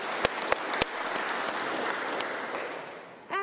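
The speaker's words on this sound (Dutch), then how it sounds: "Ik vraag ook een applaus voor Peter, voor de streaming en voor het gelicht en voor het geluid." Applause rises from a small audience in a hall after a piano concert, modest and fairly soft with a few sharp, close claps standing out before it tails off.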